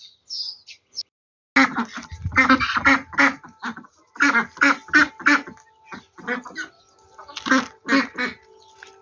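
Ducks quack in repeated bursts, close and loud, with short pauses between runs of calls.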